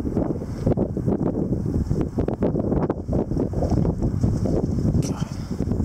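Strong gusting wind buffets the microphone outdoors during an April windstorm, a loud continuous low roar with surging gusts and brief crackling bursts throughout.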